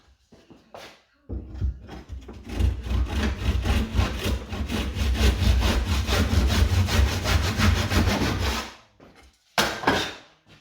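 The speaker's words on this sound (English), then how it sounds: "put that in our mitre block, and that is where we need to start our mitre from" A hand saw cuts a wooden mitre held in a mitre block for a budget kitchen door build: about seven seconds of loud, close, rhythmic back-and-forth rasping strokes, then a pause and a brief final stroke.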